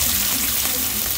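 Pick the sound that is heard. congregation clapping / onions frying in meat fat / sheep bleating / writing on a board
onions frying in meat fat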